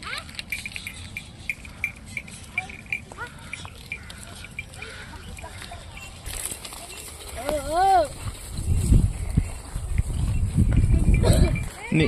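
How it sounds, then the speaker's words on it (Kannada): Cows being herded by village children on their way to grazing, with hoof clip-clop and rustling steps under an open outdoor din, a few birds calling and heavier movement near the end. "ದನಗಳನ್ನ ಹೊಡ್ಕೊಂಡು ಮೇಯ್ಸಕ್ಕೆ ಹೋಗ್ತಾ ಇದ್ದಾರೆ."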